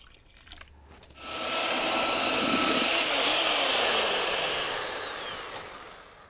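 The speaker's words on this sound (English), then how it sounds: "I'm gonna probably add about 8 ounces of this to my mix, reblend it" A mixer starts up and churns chair-forming concrete mix after extra water is poured in, a loud steady whirring blend that rises quickly and holds before tapering.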